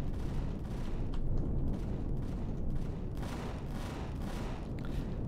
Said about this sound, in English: Who's shooting at us that we are not shooting back?